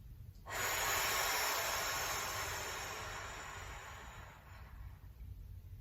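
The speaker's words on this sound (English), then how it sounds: "Let's breathe." A single long, slow exhale during a Pilates stretch starts suddenly as a loud, close, airy rush and fades gradually over about four seconds, with no talking.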